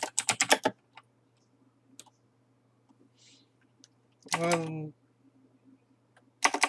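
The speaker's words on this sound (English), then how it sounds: "to start our text, we just simply type what we want" Text is typed on a computer keyboard for a design project, with quick bursts of crisp keystrokes at the start and end, sparse single clicks in the quiet between, and a short voiced sound in the middle.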